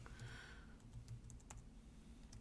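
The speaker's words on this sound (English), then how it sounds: "Oops, I'm typing" Light, quick keystrokes on a computer keyboard, irregular clicks close by against a quiet low hum.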